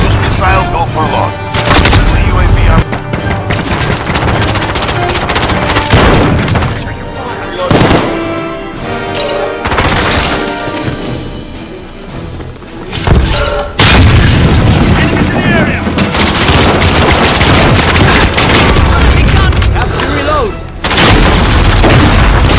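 Heavy missile explosions and bursts of gunfire in a Modern Warfare multiplayer battle boom loudly and almost continuously, with game voice callouts mixed into the chaotic combat.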